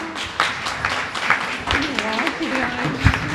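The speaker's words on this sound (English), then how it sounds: "Let us give a clap to Sarina." Audience at an Inner Holiness prayer retreat in Goa clapping for a woman who gave a short testimony: a dense patter of hands running under talk, with voices heard throughout.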